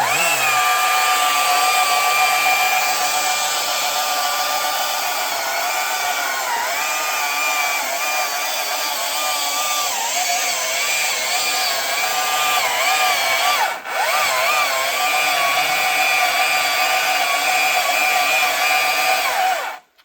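A Stihl MSA 300 battery chainsaw cuts steadily through a large tree during felling. The electric motor whines loudly and evenly for about twenty seconds, with one brief dip, then stops abruptly. No talk is heard over it.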